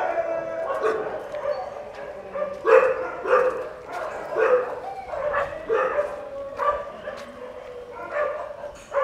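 Several dogs barking and yipping in the kennels of a dog sanctuary, with repeated bursts of barks at moderate distance across the whole stretch over a steady background.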